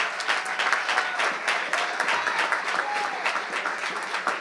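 Sustained applause from an audience at a King Day policy forum, dense and steady throughout with a faint voice briefly underneath.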